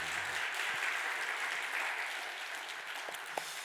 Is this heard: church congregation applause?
yes